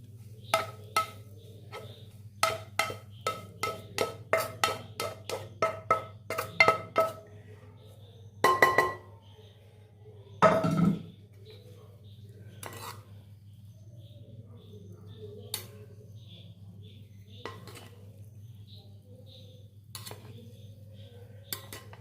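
Fried egg goes into tomato rice in a pan, a quick series of close metallic clinks and scrapes of a spoon against the pan, then a few louder knocks and sparse taps, with no talking.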